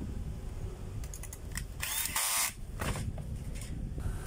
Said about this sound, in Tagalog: naluwagan ko na po yung screw